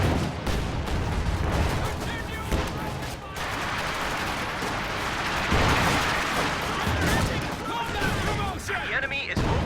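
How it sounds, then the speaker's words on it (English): Artillery shells and rapid gunfire crash repeatedly through a real-time strategy game match, a dense barrage of booms and bursts at varying distances, with someone talking over the din. "Getting pounded by artillery all game requires a lot of patience."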